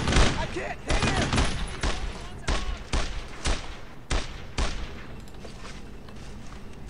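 Gunfire in the World War II shooter Brothers In Arms: Road to Hill 30 comes as a ragged volley of sharp, close shots, repeated bursts spaced irregularly over several seconds, with voices shouting in the fray.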